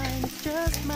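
Butter sizzles and crackles in a hot takoyaki pan, a close, steady frying hiss with a few bubbling pops through the short stretch.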